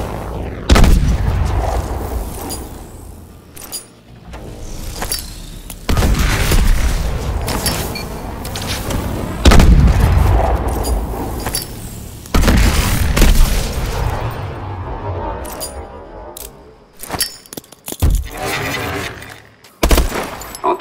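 A marker-grenade artillery strike in Call of Duty: Advanced Warfare unleashes a series of loud, heavy explosions in repeated waves, with rumbling booms and sharp crackling debris between blasts.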